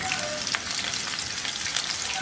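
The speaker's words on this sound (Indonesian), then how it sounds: "kita tumis terlebih dahulu bawang merah dan juga bawang putihnya sampai nanti wangi" Shallots and garlic sizzle steadily in hot oil in a wok, a continuous close frying hiss with occasional crackles and faint stirring, no voices.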